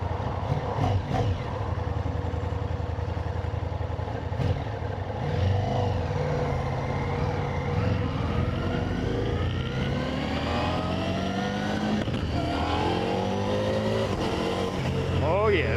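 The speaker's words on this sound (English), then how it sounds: "let's go and ride this XDiavel" A 2026 Ducati XDiavel V4 motorcycle being ridden, its engine droning and rising through gears with swelling revs and shifts, loud and continuous under wind rush while a rider talks over it.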